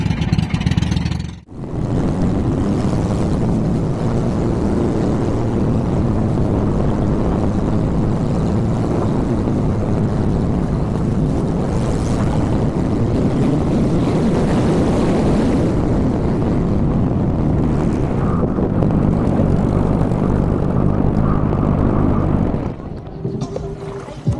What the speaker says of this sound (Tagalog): At doon na naman tayo mag-drone shoot.